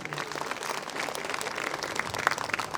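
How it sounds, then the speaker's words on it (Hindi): A Christmas gathering audience at an annual children's program applauds a dance performance, with fairly faint, scattered clapping spread evenly across the moment and some background murmur. "जोरदार तालियां हो जाए सुंदर डांस के लिए।"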